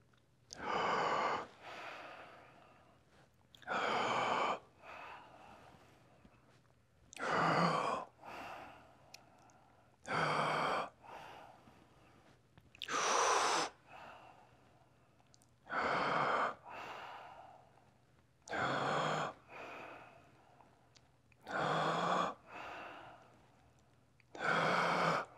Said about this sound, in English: I'll be breathing in through my mouth and out through my nose.